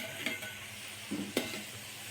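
Flour sweets fry in hot oil in a kadai while being turned over, giving a continuous close sizzle with a couple of brief utensil clinks.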